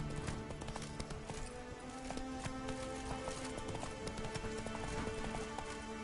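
Roach, a horse in The Witcher 3: Wild Hunt, gallops with a steady, rapid clip-clop of hooves over a continuous ambient bed, close and unbroken without speech.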